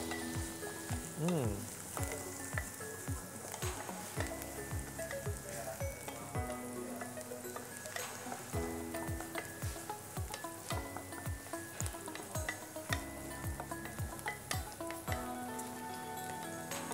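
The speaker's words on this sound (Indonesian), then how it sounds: "Nah, kita tumis sampai wangi ya." Aromatics sautéing in oil in a home kitchen pan, a steady dense sizzle with crackling pops and occasional stirring scrapes, continuous and close throughout with no talk.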